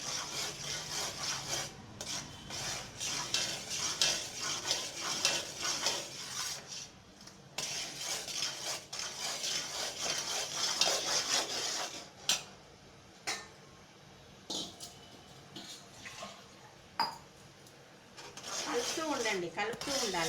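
A spoon scrapes and stirs through coconut sweet filling in a metal pan, irregular clinks and rubbing strokes close by, pausing now and then, with someone talking intermittently over the stirring.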